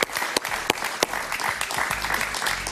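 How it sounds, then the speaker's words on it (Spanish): Studio audience applause on a Venezuelan political talk show, a lively burst of clapping with a few sharp louder claps standing out, fairly close and steady. "Un gran aplauso para Paciano Padrón."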